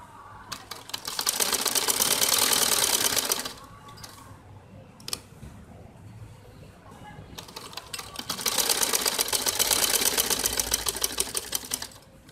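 An electric sewing machine stitches around a kameez neckline in two long, fast, steady whirring runs, with a brief pause and faint handling noise between them, close to the machine and without speech.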